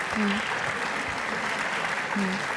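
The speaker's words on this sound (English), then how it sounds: "so I don't think they're applauding for us." Clapping from another audience nearby, a continuous wash of applause heard at a slight distance, with brief voices rising over it at moments.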